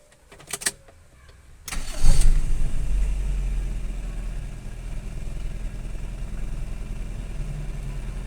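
A restored and modified Toyota SE Limited AE engine cranks after a few clicks, catches with a loud rev, then settles into a steady, smooth idle heard close by.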